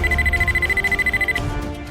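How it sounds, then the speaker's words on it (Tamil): An alarm bell rings loud and sudden with a rapid pulsing tone in a dramatic TV serial scene, cutting off partway through to quieter room sound. "திடீர்னு அலாரம் அடிக்குது."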